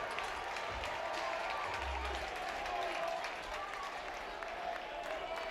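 At an NCAA regional baseball elimination game between Oklahoma State and Georgia, a stadium crowd cheers and applauds in a dense, distant roar that holds steady throughout, with a commentator's voice faintly beneath it.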